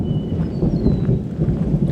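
Heavy rain on a farm with thunder: a dense, steady roar of downpour and deep rumbling throughout, loud and close, with no voices.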